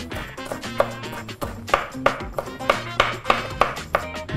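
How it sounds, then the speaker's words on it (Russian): A knife finely chops young garlic on a board in steady, evenly spaced taps, about three per second, close and clear with no voices. "И мелко шинкуем."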